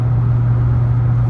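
A 2006 Chevrolet Silverado fitted with a Volant cold air intake drives along, giving a steady, loud low engine drone with a constant hum and road rumble throughout, no voices.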